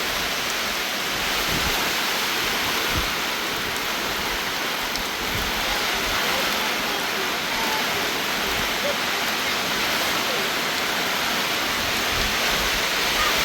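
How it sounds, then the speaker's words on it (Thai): Heavy rain pouring down in a steady, dense hiss that holds at even loudness throughout, close and enveloping, with no talk heard. "ฝนลงแล้วฝนลงแล้ว"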